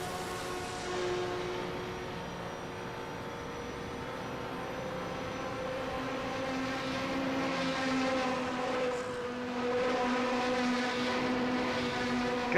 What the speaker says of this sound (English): God, that car's loud.